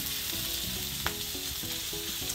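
Prawns fry in a hot pan for Thai pineapple fried rice, giving a continuous loud sizzle with faint scraping and stirring sounds and one brief sharp tick.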